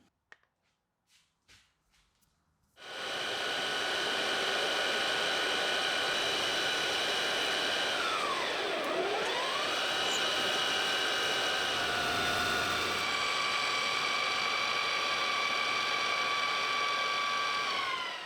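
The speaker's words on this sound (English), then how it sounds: "next we'll make a pulley from aluminium that will be belt driven from the motor" An aluminium pulley is cut on a lathe, the tool producing a loud, continuous high-pitched ringing whine that holds for a long stretch with a brief sweeping dip, after a few quiet clicks and taps at the start.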